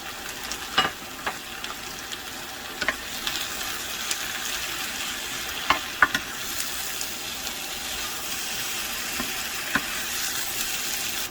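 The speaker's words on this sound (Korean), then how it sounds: "이렇게 찌지 않은 순대는 중불에서 10분 정도 천천히 오랫동안 볶아주시면 맛있게 드실 수 있어요." Korean blood sausage (sundae) with pig lung stir-frying over medium heat gives a soft, continuous sizzle, with occasional sharp clicks and pops of stirring in the pan close by.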